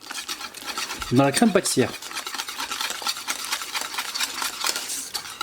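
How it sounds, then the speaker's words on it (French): Butter being stirred into pastry cream with a whisk or spatula, a continuous close scraping and swishing rhythm that runs throughout, with a brief spoken phrase near the start. "on va mélanger jusqu'à ce qu'on ne voit plus le beurre"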